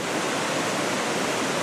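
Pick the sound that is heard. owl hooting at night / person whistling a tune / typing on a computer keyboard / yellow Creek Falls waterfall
yellow Creek Falls waterfall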